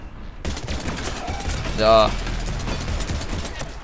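Gunfire rattles in a firefight in the video game Mass Effect 3, a few quick bursts of shots under game sounds, with a player speaking briefly over it.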